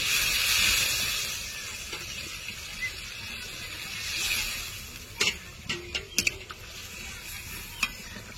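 Water splashes into sizzling fish curry masala for katla with potatoes, the spices already fried down until the oil separates. A steady frying hiss carries through, then sharp clinks and splashes of stirring close by.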